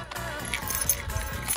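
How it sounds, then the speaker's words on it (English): Keys jangle and clink in short bursts close by, a light metallic rattle that comes and goes over a soft background. "got the key to the box."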